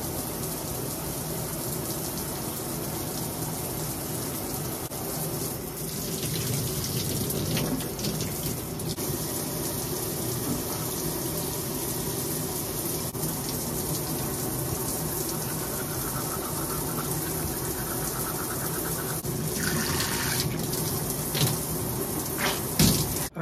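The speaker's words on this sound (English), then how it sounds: "I go and take me a shower." A shower runs steadily at home, water hissing and splashing in a continuous close wash with small shifts in the spray and a few knocks near the end.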